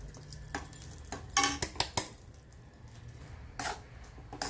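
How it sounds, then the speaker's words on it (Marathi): Urad dal flour roasts in ghee in an iron pan, with a spoon clinking and scraping against the metal in a quick cluster of knocks, then quieter stirring and one more clink, close and soft. "आता या तुपात मी पीठ घालून घेते"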